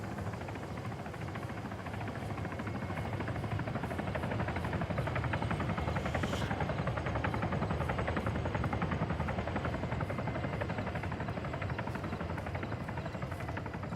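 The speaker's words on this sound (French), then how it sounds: "Hélico." At an airsoft event, a helicopter passes overhead with a continuous, fast rotor chop, steady and fairly distant, holding for fourteen seconds without talk.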